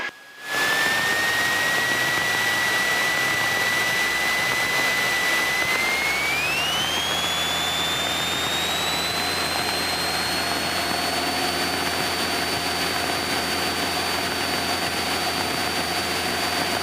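A light aircraft's engine powers up for takeoff from runway 36. A loud, close, continuous drone rises sharply in pitch around the middle of the run, then holds a steady, high whine.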